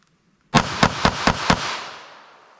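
.380 ACP pistol fired with jacketed hollow point ammunition, five quick, sharp shots in an even rapid string with a lingering outdoor echo afterward.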